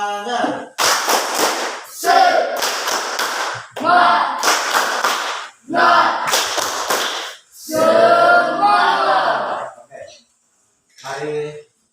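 A group performs a rhythmic spirit clap in a closing classroom session, with loud bursts of fast, patterned clapping and chanted voices in several bunched sections separated by short pauses, ending with a softer final burst.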